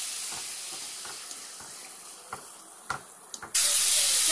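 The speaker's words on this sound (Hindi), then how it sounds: "ये देखिए, इसको अच्छे से भूनने देंगे, थोड़ा सा गुलाबी पिंक हो जाए।" Ingredients for a surma fish gravy roast in a pan with a faint steady hiss and a few soft pops, then a sudden loud, bright sizzle bursts up near the end.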